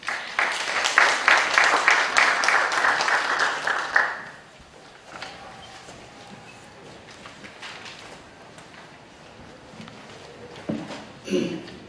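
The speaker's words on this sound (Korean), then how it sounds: "박수 부탁드리겠습니다." Audience applause at a symposium held at the National Assembly, loud dense clapping for about four seconds that stops abruptly, followed by quiet room tone, faint murmurs and a few stray claps near the end.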